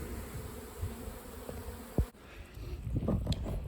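Honey bees buzzing around a hive while they are shaken out in front of it, a close, continuous droning hum with a sharp knock midway, after which the buzzing grows busier and louder.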